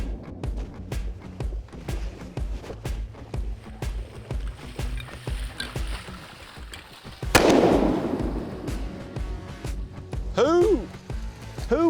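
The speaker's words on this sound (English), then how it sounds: "Who was shooting there?" Shotgun shots from duck hunting in flooded timber ring out in a rapid volley of sharp blasts over nearby voices and water sloshing, with loud, close reports.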